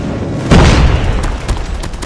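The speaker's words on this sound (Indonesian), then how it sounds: "Friendly airstrike incoming." An airstrike in the shooter game Call of Duty sets off a sudden loud boom, then a rumbling tail and a few quicker thuds of follow-up explosions, all close and heavy.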